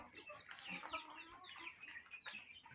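Small chicks in a coop, about forty of them, peep and chirp in a faint, busy chorus of overlapping high calls, with no talking.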